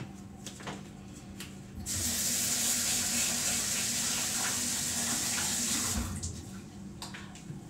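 A kitchen tap runs for washing, starting abruptly as a loud, steady rushing stream of water that holds for several seconds before cutting off, with faint clatter before and after.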